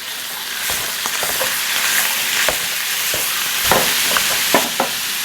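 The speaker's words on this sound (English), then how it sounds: "So what I'm going to do now is break this up." Ground venison sizzling loudly in a pan, with a continuous close fry hiss and scattered scraping clicks as a utensil breaks up the meat, no voices.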